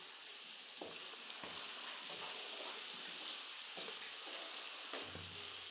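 Steady frying sizzle with a few soft scraping strokes of a spoon stirring bilimbi pickle in a pan, no voices.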